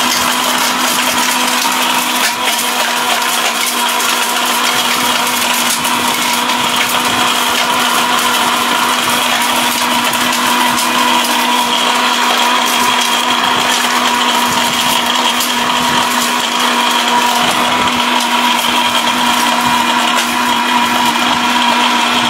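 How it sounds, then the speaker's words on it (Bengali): Tornado blender with a steel bush motor running continuously at full speed, a loud, steady high-pitched whirring grind of blades chopping contents, unbroken throughout with no talk. "টর্নেডো ব্লেন্ডার এটা,"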